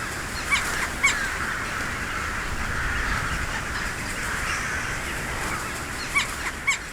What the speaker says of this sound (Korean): 갈까마귀는 자리 다툼에서 늘 덩치 큰 띨까마귀에 밀린다.